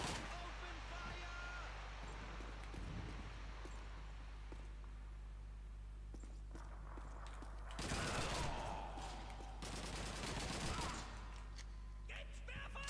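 Rapid rifle and machine-gun fire crackles through a World War II battle in the video game Call of Duty 2, in dense distant bursts mixed with shouting soldiers and ambient battlefield noise.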